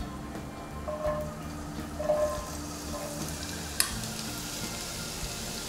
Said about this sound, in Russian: Сковородка разогрелась, уже начинает немножко потрескивать масло.